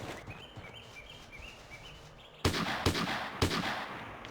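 Gunfire in Hidden & Dangerous rings out as three sharp, loud shots spaced about half a second apart, preceded by quieter ambience with chirping birds and faint distant pops.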